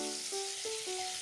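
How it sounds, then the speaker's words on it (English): Blueberry fritter dough sizzling in hot frying oil, a steady bright hiss of bubbling fat broken by a few faint rising tones, close and continuous with no talk. "drop them slowly into the hot oil"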